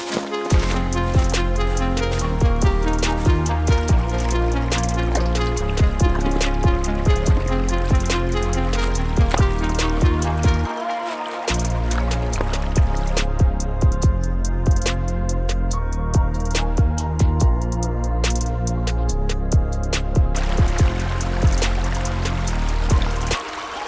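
A winter creek runs beside a flat hiking trail in Shawnee State Forest, Ohio, trickling and gurgling steadily and close by for the whole stretch, with no talking.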